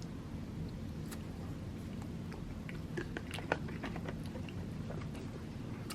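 Close, soft chewing and biting of a peanut butter and raspberry jam sandwich from a Canadian military ration, repeated faint crunchy bites over a low steady background hum.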